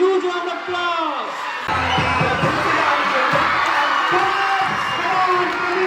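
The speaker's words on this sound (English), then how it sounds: "Come on, give them a cheer." Schoolchildren cheer, whoop and shout at a house closing ceremony as a house receives its trophy, a loud, lively crowd roar that swells and pulses throughout.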